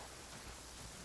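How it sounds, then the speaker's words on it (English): Steady rain falls in Genshin Impact, a soft, even hiss spread across the whole clip at low level with no voices over it. "Is this supposed to be raining all the time here?"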